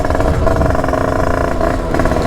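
A Derbi motorcycle screams at full throttle in sixth gear along a motorway, a loud, steady high-revving two-stroke drone held close with wind rush and no talk.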